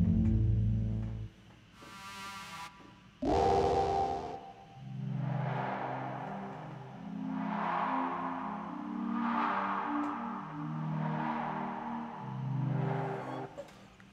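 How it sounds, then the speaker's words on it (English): Synth pad sounds from a free VST plugin, playing sustained chords that swell and fade in slow overlapping waves after a couple of brief bright bursts at the start, with no voices. "They got some pads."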